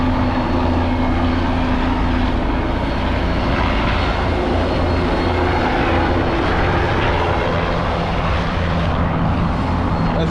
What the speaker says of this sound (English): In the background you can hear a helicopter coming into land.